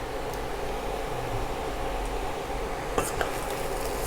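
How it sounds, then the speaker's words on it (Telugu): A spoon stirs beetroot fry with grated coconut in a pan, making a steady low sizzle and scraping hiss with a few light clinks of utensil against metal near the end. "సో ఇది మొత్తం కలిసేలా కలుపుకుందాం."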